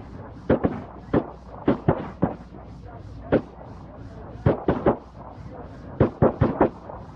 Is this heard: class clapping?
no